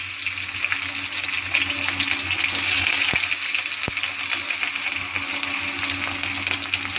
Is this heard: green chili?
yes